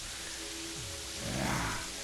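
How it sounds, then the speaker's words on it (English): Steady hiss of rain falling in a video game, a dense wash of faint noise with a brief swell near the end and no talking. "That's why it's raining."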